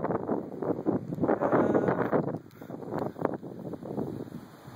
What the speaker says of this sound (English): and it's windy as a motherfucker